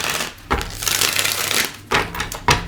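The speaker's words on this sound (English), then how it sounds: "We'll do 3 shuffles." A deck of tarot cards being shuffled by hand, with steady papery rustling broken by several sharp, close snaps as the cards riffle together.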